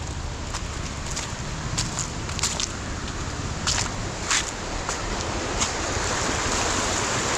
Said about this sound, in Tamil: தண்ணி சவுண்டு அவ்வளோ அருமையாக கேட்குது.